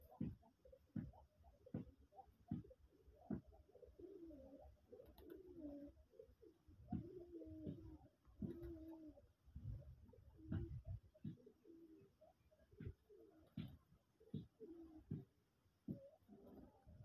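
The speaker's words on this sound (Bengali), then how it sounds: "দেখছেন ভাইয়ের কবুতরগুলি" Rajgolla pigeons cooing at a hobby pigeon farm as they gather at feeding time, with repeated soft low coos and sharp wing flaps or taps. The whole scene is faint and distant, with no talking.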